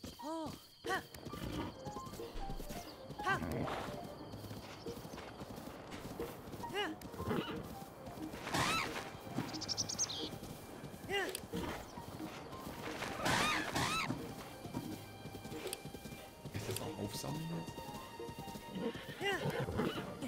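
Horse neighing and hoof clip-clop from The Legend of Zelda: Breath of the Wild, with repeated whinnies and steady hoofbeats over game ambience while a voice talks intermittently.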